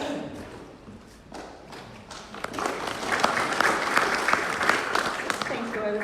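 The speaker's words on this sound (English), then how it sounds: "Thanks to whoever started that applause, appreciate it." Audience applause at a bushfire community meeting in Mallacoota, a steady wash of many hands clapping in a hall that builds and holds, with some scattered thuds and voices mixed in.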